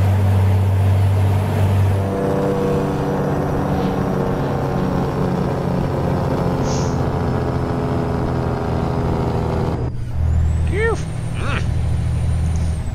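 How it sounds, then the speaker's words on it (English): A Kenworth W900 truck in American Truck Simulator drones with a deep, loud, pulsing engine-brake rumble that runs for about ten seconds, breaks off briefly, then resumes more softly. "everybody wants to hear the Jake, so let's get that one a good one"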